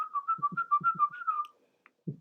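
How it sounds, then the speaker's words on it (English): Someone whistles a quick run of short, bright, slightly wavering notes for about a second and a half, close and clear, ending with a soft thump and then quiet. "somebody whistling."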